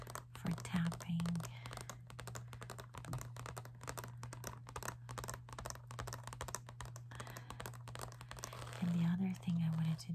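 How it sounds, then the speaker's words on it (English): Close, crisp scratching and rapid tapping on plastic markers, a dense run of small clicks and rasps with soft whispered speech over parts of it. "it's like the texture is so good for scratching. But then also the plastic for tapping."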